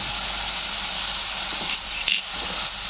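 Ginger paste sizzles in a hot pan of frying spinach and paneer, a bright, constant hiss with a brief burst of stirring near the end.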